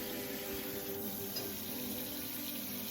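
Two quarts of water pour steadily from a tap into a Ball Produce Protector container, a continuous close rushing and splashing with no talk.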